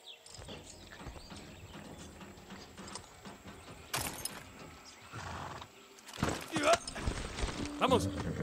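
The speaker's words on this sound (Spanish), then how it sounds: "Qué buen caballo." A horse in the Far Cry 6 video game clip-clops along with steady hoofbeats and gives a short whinny near the end, heard alongside game sounds and someone speaking Spanish.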